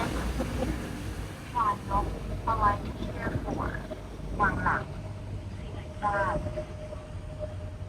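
A tour boat motors along in Bangkok with a low engine rumble and wind buffeting the microphone, while people talk intermittently over the steady noise.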